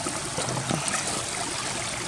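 Water trickles and streams into an opened pond filter box packed with filter material during a spring pond renovation, a steady close gurgling flow with no pause.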